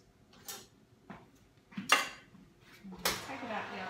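A roasting tray of cauliflower pulled from the oven: several metallic clanks and scrapes of tray against rack and oven, spaced out, the last one loudest and ringing, close and quiet between hits.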